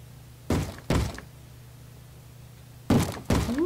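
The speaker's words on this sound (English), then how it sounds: "Like somebody's knocking on the door." Heavy knocks on a door in the Minecraft video game, two dull thuds, a pause, then two more, loud and close against a low steady hum.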